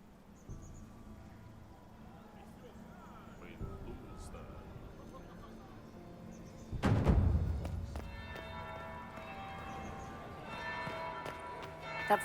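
A bell rings inside a palace ballroom in Dragon Age Inquisition, a single deep resonant strike that lands heavily midway and rings out under soft ambient game music, with characters talking quietly before it.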